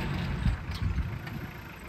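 A farm tractor runs steadily during mulching work in a turmeric field, its low engine rumble continuous and moderately close throughout with uneven bursts of load.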